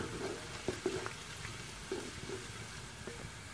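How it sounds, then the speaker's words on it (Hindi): Onions frying in ghee in a home kitchen pan, a steady low sizzle broken by a few soft stirring clicks and scrapes, moderately faint and continuous with no voices. "प्याज को अच्छी तरह से जो है हम फ्राई कर लेंगे।"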